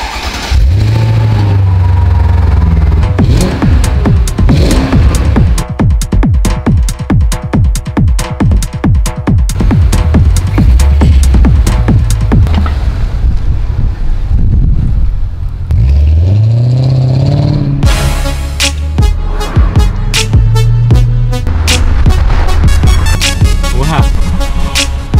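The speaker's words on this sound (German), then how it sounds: "CL500, 5 Liter V8, let's go!" Mercedes CL500 with a 5-litre V8 on lowered suspension, starting and revving hard, loud close-up roars rising and falling repeatedly with sharp crackles between pulls.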